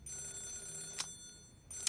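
An old-fashioned telephone in the 1980s-set game Yakuza 0 rings with short metallic bell bursts, two rings standing out over a faint tonal hum, quiet and without talk.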